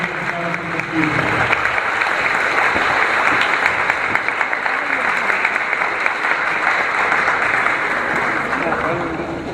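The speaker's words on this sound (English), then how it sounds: "Please give a round of applause for Ms." A crowd in a high school gym before a basketball game applauds honoring a staff member, a broad, even wash of clapping that swells after a brief opening lull and holds steady, with faint voices mixed in.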